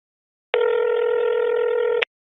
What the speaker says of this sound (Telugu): జైత్రి, మీ మేనేజర్కి ఫోన్ చేయి.